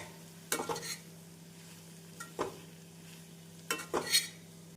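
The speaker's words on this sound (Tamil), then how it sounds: "நாம் மஞ்சள் பொடி மசால் பொடி சேர்த்து மீடியம் ஃப்ளேமில் 1 நிமிடம் வதக்க வேண்டும்." Banana flower with turmeric and masala powder is sautéed over a medium flame. A low sizzle runs beneath three or four loud scraping stirs of a spoon against the pan, and no one speaks.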